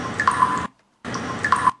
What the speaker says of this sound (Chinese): 也可以加一个洞穴的水滴的声音